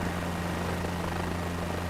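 A helicopter in Microsoft Flight Simulator 2024 hums with a steady, droning rotor and engine tone, constant and even throughout the short stretch.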